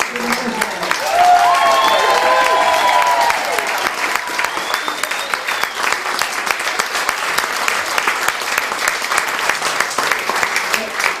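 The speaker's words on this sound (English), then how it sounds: "Please give a big round of applause for the runners-up." A studio audience at a Strictly Come Dancing final claps loudly for the runners-up, a dense, steady wash of applause with a few cheers early on, continuing without pause.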